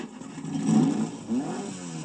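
A race car sound effect from a 1984 Gumby audiobook: a cartoonish engine revs up and pulls away over about two seconds, rising and falling at moderate loudness, heard alone without any talking.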